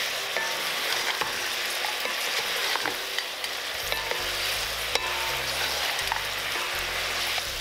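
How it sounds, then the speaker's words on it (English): Steady sizzling in a hot pan as rock sugar melts into braised pork belly sauce, a utensil stirring and scraping continuously, with small clicks of the spoon against the pan. "Add the rock sugar and continuously stir until it is completely melted."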